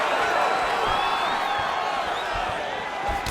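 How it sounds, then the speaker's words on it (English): A UFC arena crowd roars and cheers as fighters get back to their feet, a loud sustained wash of voices with scattered whoops, swelling slightly and holding steady. "big pop from the crowd as they get back to their feet"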